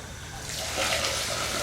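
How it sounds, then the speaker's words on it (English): Cold water pours from a tap into a sieve-lined pot of rice, a steady close splashing trickle that swells slightly as the pot fills. "Now you fill that with cold water"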